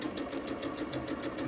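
A sewing machine runs steadily through pieced quilt seams, a fast even needle rhythm held at close range for the whole moment, with no voices over it.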